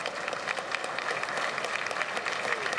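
Delegates at a Conservative Party leadership convention applaud in a large hall, a dense, steady roar of clapping with crowd murmur throughout.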